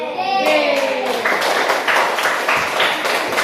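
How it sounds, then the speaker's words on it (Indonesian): Audience clapping for a presenting group in a classroom or seminar, a short burst of many hands applauding at close range after a voice at the start. "tepuk tangan untuk kelompok D"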